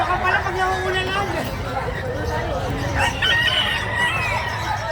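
Chickens for sale at a market, with a rooster crowing amid clucking fowl, while people talk and bargain nearby over a steady crowd hubbub.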